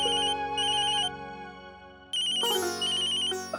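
A telephone ringtone sounds for an incoming call, loud and clear, with a repeating electronic melody that pauses briefly and then starts again alongside a brighter chime. No one speaks over it.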